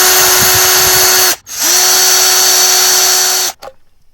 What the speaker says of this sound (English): The Ryobi drill works smoothly as well,